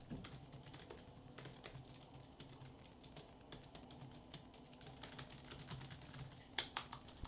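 Soft, quiet typing on a silent wireless keyboard: a steady run of light, close key clicks with a few slightly sharper taps near the end, no voices.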